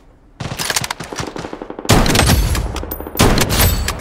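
Automatic gunfire in the mobile shooter Blood Strike: rapid bursts of rounds, loud and close, coming in three waves with brief gaps and no voices over it.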